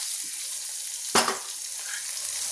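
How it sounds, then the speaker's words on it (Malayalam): Mustard seeds splutter in hot oil in a pan for pappadam thoran: a constant close sizzling hiss with one sharp burst of crackling midway. "കടുക് ഇട്ട് കൊടുക്കും കടുക് പൊട്ടി വന്നിട്ടുണ്ട്"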